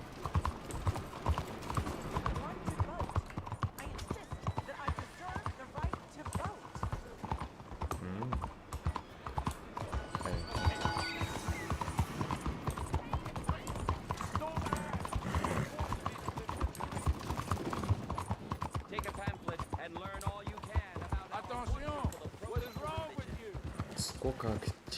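Horse hooves clip-clop at a steady riding pace in Red Dead Redemption 2, a busy rhythmic pattern of hoofbeats running throughout while someone talks over them.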